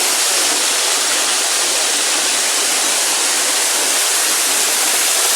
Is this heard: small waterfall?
yes